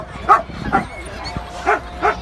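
Golden retrievers on a dog-meat truck give four sharp, close barks and yips with a whimpering edge, coming in quick bursts with short pauses between them.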